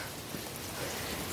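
Heavy rain pouring down outside, heard as a dense, broad, unbroken wash of noise at a constant moderate level for the whole short stretch, with no talk.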